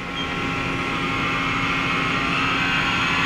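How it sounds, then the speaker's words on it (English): A Mori Seiki NL-3000Y CNC lathe runs its live tool at 1100 RPM, producing a loud, steady machine whine with tonal hum over broadband noise, continuous and close, with no talking. "Which we're going to run now. It's 1100 RPM on the live tool."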